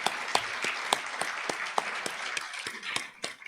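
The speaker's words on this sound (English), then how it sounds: "Have them all stand and give them a round of applause." Applause at an awards luncheon as honorees stand, a steady patter of many hands with sharp individual claps standing out, fairly close and even throughout without talk over it.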